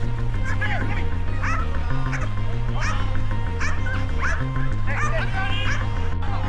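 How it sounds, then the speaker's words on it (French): Several trained attack dogs, including a German Shepherd, bark and yip in quick bursts in an arena over a steady low droning background, the barks fairly close and repeated throughout. "lâchés dans l'arène des chiens dressés pour attaquer"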